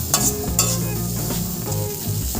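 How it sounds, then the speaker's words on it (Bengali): Green beans fry in hot oil with a close, continuous sizzle, broken by a few sharp scrapes and clatters of stirring. "বিনসটা একটু কাল তেলের মধ্যে ভাজা ভাজা করে নিচ্ছি।"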